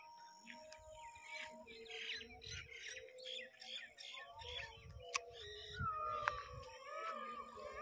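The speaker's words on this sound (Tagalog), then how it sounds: "Nagsitunugan na yung mga malalaking ibon." Loud squawking calls from several large birds mix with chirps and a faint insect drone, repeating irregularly at moderate distance.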